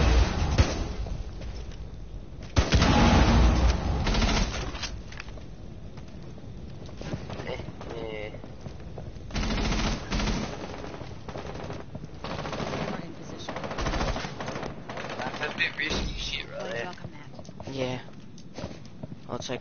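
Rapid gunfire from the video game Rainbow Six Siege, with bursts of automatic fire and single shots recurring through the clip under frequent talk from players.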